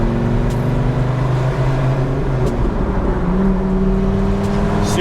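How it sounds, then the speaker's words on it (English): A Dodge Viper 8.3L V10 drones loudly from inside the cabin as it accelerates through the gears, with the engine pitch dropping at a shift partway through. "We're gonna go through the gears regularly right now. Oh my gosh, the sound."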